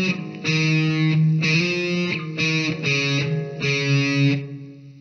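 Distorted electric guitar plays a riff in a lesson, short syncopated bursts of crunchy, effects-heavy notes separated by brief gaps, loud and close with no talking.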